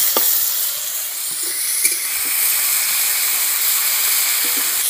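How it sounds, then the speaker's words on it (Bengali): Prawns frying in hot mustard oil in a wok, a loud continuous hissing sizzle with occasional spatters and a few light utensil taps, no speech. "আমি কড়াইয়ে সর্ষের তেল দিয়ে নিয়েছি চিংড়ি মাছ ভাজার জন্য।"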